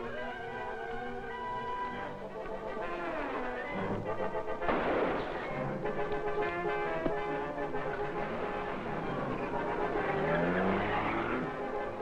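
A car revs and speeds away in an old radio serial, the engine whine rising and shifting under dramatic orchestral music, with tire noise and a sharp burst partway through.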